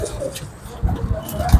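A prized pigeon coos in short, low, throaty pulses near the microphone, with faint background noise and a voice at moments.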